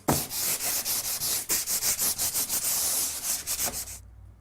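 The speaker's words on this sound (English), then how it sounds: "sand around the area to improve adhesion" Rhythmic back-and-forth scraping of sandpaper on a plasterboard wall around a hole, close and steady for about four seconds before stopping abruptly.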